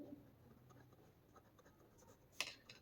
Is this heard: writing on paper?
yes